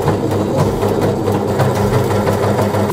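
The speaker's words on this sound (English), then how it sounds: "Overlocker time." A serger-style overlocker sewing machine runs steadily and loudly throughout, a continuous mechanical whirr with fine rapid clatter, used to stitch fabric for a snug RC FPV wingsuit; no voices are heard.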